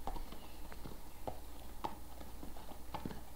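Horse hooves in a video game lunging training facility, a soft rhythmic clip-clop of a horse circling, fairly faint over a low steady background.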